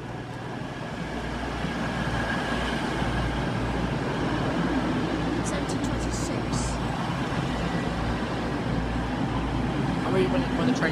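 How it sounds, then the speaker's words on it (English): Passenger train 222014 rolls into platform 4 at Kettering station with a low steady rumble, while muffled voices and platform noise carry on around it. "Now arriving on platform 4 at Kettering is 222014."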